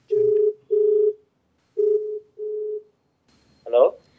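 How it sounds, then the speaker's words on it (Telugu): A telephone ringback tone sounds in four steady, evenly spaced bursts, two close pairs, before a short voice cuts in at the end of the call connection. "మరి చంటికి కాల్ చేస్తానండి"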